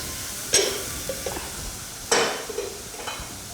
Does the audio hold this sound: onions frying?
yes